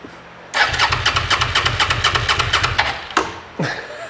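A Suzuki SV650S motorcycle engine cranks over without firing, a loud close rhythmic starter churn lasting about two and a half seconds, followed by short sharp mechanical clicks.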